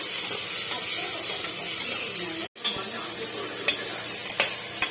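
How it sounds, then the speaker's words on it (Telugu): A tomato frying and being stirred in a pan for mutton pulao, giving a steady close sizzle broken by a brief cut-out and a few sharp scraping clicks of the spoon. "ఇలా ఫ్రై అయిన తర్వాత ఒక్క టమాటా అయితే వేసుకుంటున్నానండి."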